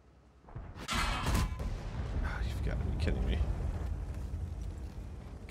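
Incoming rounds striking a TT-130M tank in a video game: a sudden loud impact bang followed by ringing, rumbling clatter and engine drone, with speech over the din.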